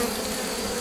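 Honeybees buzz steadily inside a hive being checked during a rescue of a drone-laying colony, a dense, continuous close-up hum with no voices.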